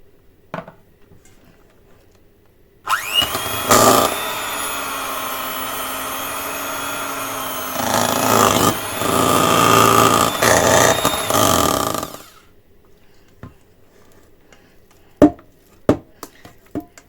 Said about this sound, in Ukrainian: Починаємо взбивати масло.